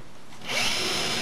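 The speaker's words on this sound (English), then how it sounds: "I'm going to use a 1/2 inch wide countersink on the top holes" A power drill fitted with a half-inch countersink bit bores into a wooden cabinet, rising suddenly from quiet into a steady, close whirring grind that lasts about a second.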